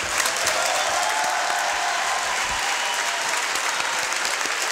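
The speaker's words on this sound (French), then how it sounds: "Applaudissements pour Davina qui a beaucoup de concentration" Steady applause from a small group, continuous clapping at even loudness throughout with no voices over it.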